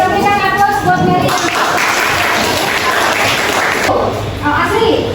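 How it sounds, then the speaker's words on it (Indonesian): Classroom applause for a student named Meli after her math presentation, loud steady clapping from many hands running throughout, with voices mixed in. "kita berikan aplaus buat Meli"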